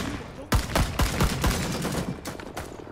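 Gunfire from a gun in the video game Rising Storm 2 sounds as a loud, rapid burst of shots at close range, several sharp cracks in quick succession followed by a few more after a brief gap.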